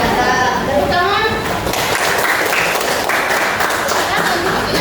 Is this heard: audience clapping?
yes